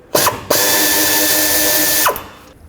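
Power tool on a 10mm socket backing out the oil dipstick tube bolt on a 2003-2021 Chevy Express 3500, a short loud whirring burst, a brief pause, then a steady mechanical whine for about one and a half seconds before spinning down.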